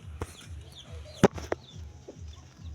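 Chickens clucking softly in a steady, repeated rhythm nearby, with a few sharp knocks and brief louder squawks mixed in.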